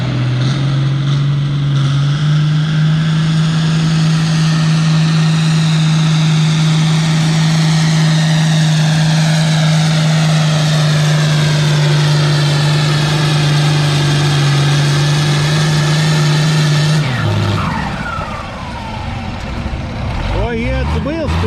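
A vintage tractor engine runs loud and steady at a tractor pull, holding a constant low drone for most of the run before dropping off abruptly, with people talking over it.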